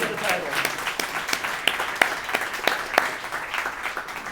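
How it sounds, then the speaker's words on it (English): A room audience claps and applauds at a talk event while a guest walks up, moderately loud, with distinct individual hand claps standing out from the crowd and a voice briefly audible at the start. "Keep clapping while she walks up."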